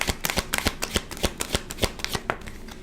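Tarot cards shuffled by hand at close range, a run of quick crisp riffling snaps and slaps in an uneven rhythm, heard alone with no talking.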